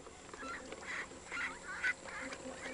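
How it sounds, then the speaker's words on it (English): A duck at an outdoor fishery calls in a series of nasal honking quacks, about six bursts at an irregular rhythm, faint and somewhat distant over quiet background noise. "Look at that, look at that duck."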